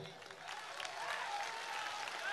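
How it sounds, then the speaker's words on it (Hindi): An audience at a religious gathering claps in a soft, distant patter beneath faint voices and room noise, the clapping fairly quiet and brief. "बजाओ ताली"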